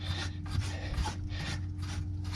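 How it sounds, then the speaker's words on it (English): An electrical fitting being screwed into place by hand during a call about a tripping breaker, heard as close, rhythmic scraping and rubbing strokes repeating every half second over a steady hum. "But just start screwing it on there"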